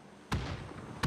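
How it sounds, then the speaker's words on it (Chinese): Grenade explosions in the video game PUBG, two sharp, loud booms about a second apart, the first followed by a rumbling tail. "龙宗权一颗手雷，哦，把 MP 的再次炸倒， 再丢，集火扔雷"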